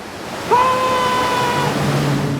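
A video game waterfall fills the scene with a steady, loud rushing wash, and a short tonal sound rises over it partway through.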